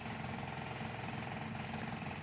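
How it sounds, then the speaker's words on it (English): A jackhammer pounds away nearby in a steady, continuous rattling burst, loud and unbroken throughout with no voices over it. "this jackhammer business started back up again"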